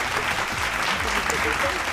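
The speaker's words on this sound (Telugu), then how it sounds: "ఒకసారి గట్టిగా క్లాప్స్" An audience at a televised quiz held at a zoo claps loudly together, thick steady applause filling two seconds, with voices faintly under it.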